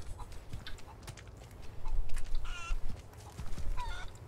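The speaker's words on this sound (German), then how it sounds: "Hühner!" Faint chicken calls in the game Resident Evil 4, clucking and honk-like squawks, rise out of a busy, rumbling background, with a couple of brief louder bursts midway.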